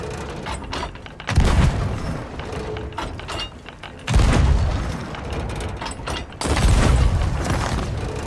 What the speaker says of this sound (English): Sharpie, shoot over to the island with some chain shots if you can